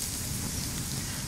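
Leftover oil from a freshly seasoned cast-iron pan poured into a campfire, producing a loud, steady hiss and crackle that fills the whole short stretch without pause.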